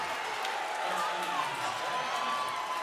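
Steady, dense roar of a packed high school basketball gym crowd cheering after a slam dunk, loud and continuous with scattered whoops throughout.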